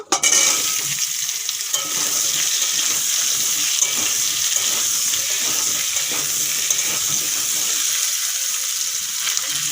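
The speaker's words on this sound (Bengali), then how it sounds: "এখন কেটে ধুয়ে রাখা চাল কুমড়োগুলো ভেজে নেব" Ash gourd pieces frying in a pan, a loud, dense, continuous sizzle with hissing throughout and faint scraping beneath, close and without talk.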